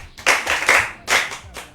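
Loud bursts of audience hand clapping at a radio station gathering, three or four short rounds of applause close by, each dying away between bursts.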